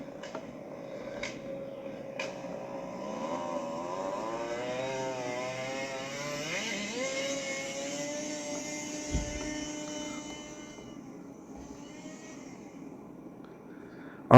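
A scooter motor runs with a steady droning hum that climbs in pitch midway and then settles, ending with a sharp knock; no voices.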